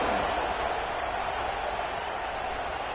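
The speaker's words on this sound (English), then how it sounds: "this crowd is buzzing after that last score" A football stadium crowd at Texas A&M versus Oregon buzzes loudly after a score, a dense, continuous roar of voices and cheering with scattered clapping, steady and enveloping throughout.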